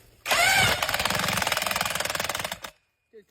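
A power tool drives a Weasyfix foundation screw into the ground with a loud, rapid hammering rattle that runs for about two seconds and then stops abruptly.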